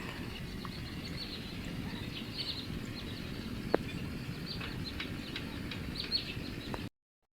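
Faint bird chirps in farm fields scattered over a constant low engine rumble, the calls thin and intermittent against the steady mechanical drone.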